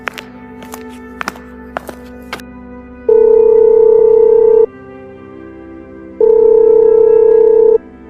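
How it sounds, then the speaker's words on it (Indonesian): A telephone call is placed: a few sharp keypad taps, then two long steady ringback tones separated by a pause, loud and close. "Bentar ya, saya telepon dia dulu."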